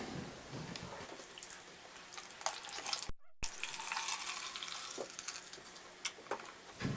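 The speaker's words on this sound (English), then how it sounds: "And the water reservoir is filled up right here." Water trickling into the reservoir of a Rowenta steam iron that has calcium buildup, faint intermittent pouring and dripping with small splashes, close but quiet, with a brief silent gap midway.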